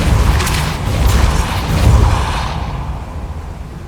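The Depulso spell in Hogwarts Legacy lets out a loud, deep, rumbling whoosh that swells for about two and a half seconds before it fades.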